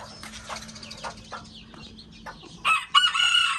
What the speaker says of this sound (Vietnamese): Những con màu đỏ thì thường là những con gà trống nhá.